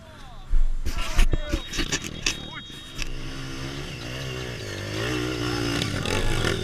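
Motocross dirt bikes on a trail, with sharp clattering bursts early, then a single engine droning and revving up and down nearby while riders talk and shout over it.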